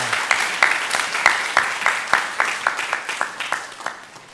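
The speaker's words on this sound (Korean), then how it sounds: "영광의 박수로 우리 하나님께 올려드리겠습니다." A church congregation at a Sunday worship service claps in a rhythmic unison beat, sharp evenly spaced claps about three per second, fairly close and loud, gradually softening over four seconds.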